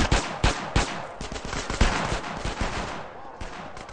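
Automatic gunfire in the video game GTA San Andreas, rapid close bursts of loud shots with sharp individual cracks that thin out toward the end.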